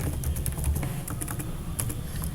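Typing an employee's name on a computer keyboard while entering payroll data in Tally ERP 9, a quick run of close, crisp key taps over a steady low hum, with no talking.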